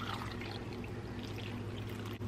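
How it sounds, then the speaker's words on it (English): Water pours steadily over beef and turkey meat in a pot as broth is started, a continuous close splashing rush with no break across the whole short stretch. "And I'm just covering all of the meat with water."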